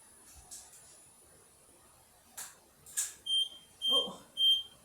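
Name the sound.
beeping device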